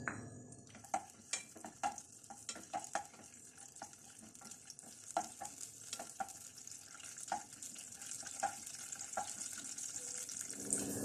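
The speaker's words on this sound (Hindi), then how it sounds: "इनको इस घी के अंदर हम थोड़ा सा फ्राई कर लेते हैं।" About ten almonds frying in ghee for sheer khurma, a quiet, soft sizzle broken by frequent clicks and taps as the spoon stirs and nudges them around the pan.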